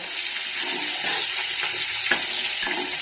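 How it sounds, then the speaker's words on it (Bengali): Fish frying in a pan, a steady hissing sizzle throughout with a few soft clinks and stirring knocks, close by and alone. "এই যে মাছ ভাজা হচ্ছে"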